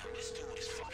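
Mobile phone ringtone in GTA V Online, a steady electronic tone held for about a second over game background noise and faint voices.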